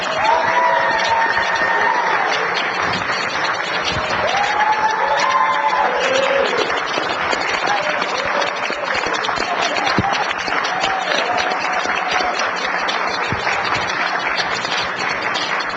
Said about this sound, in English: Please join me in a round of applause for the 2016 MLK Junior Community Service Award winner